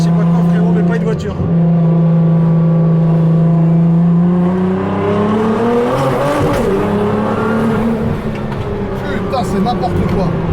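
A 1,500-horsepower Nissan GT-R accelerates hard, its engine note climbing steadily in pitch and growing louder before wavering through a second surge, with a voice shouting over the roar.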